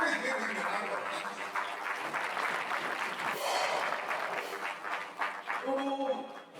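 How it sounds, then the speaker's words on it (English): Sustained crowd applause at a university convocation ceremony honoring the Vice Chancellor, a broad wash of clapping mixed with voices throughout. "Please give him a round of applause."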